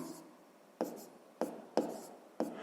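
Pen strokes writing out a sixth-grade math exercise, a few short scratchy bursts in an irregular rhythm, close and quiet with no talking.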